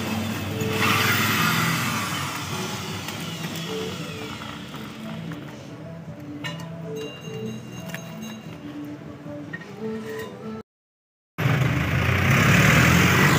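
A Firefly rechargeable fan motor, temporarily wired straight to its swollen battery, runs with a steady mechanical whir and hum, with a short dropout near the end before it continues louder.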